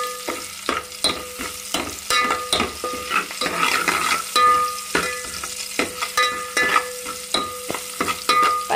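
Small onions with a little turmeric sizzle steadily in hot oil while a utensil scrapes and stirs the pan in repeated sharp strokes, close and fairly loud, with no talking.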